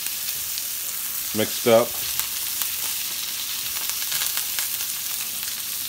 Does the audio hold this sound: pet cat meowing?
no